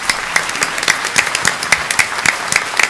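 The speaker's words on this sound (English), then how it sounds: "So just an early round of applause for them." A room full of people at a village board meeting gives a steady round of applause for the village staff, dense overlapping claps holding evenly for a few seconds.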